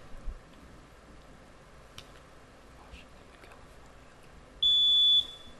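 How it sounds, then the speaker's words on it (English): A quiz-tournament buzzer rings in once near the end, a short steady electronic tone sounding clearly over a quiet room, with faint tapping and no talk before it. "ring in with your buzzer"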